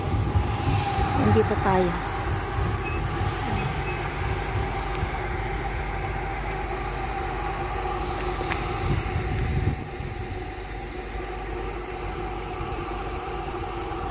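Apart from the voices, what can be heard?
train with six carriages arriving at station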